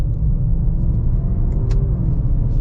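A 2021 Maserati Levante GTS drives along with its engine and exhaust producing a loud, steady low rumble that stays even and continuous from start to finish.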